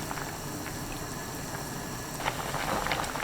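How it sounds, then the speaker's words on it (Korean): Seaweed and garlic soup bubbling in a pot on high heat, a steady low simmering hiss with faint bubbling pops that grow slightly livelier toward the end, no voices. "보글보글 끓기 시작하면 굴 넣어주세요"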